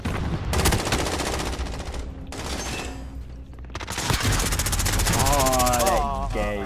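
Bursts of gunfire, including shotgun blasts, crack loudly and close in a Call of Duty Modern Warfare free-for-all match on the Rust map, coming in dense volleys with short gaps and ending under a rising game tone.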